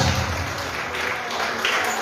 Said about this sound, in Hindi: एक और जोड़ी के लिए जोरदार तालियां होनी चाहिए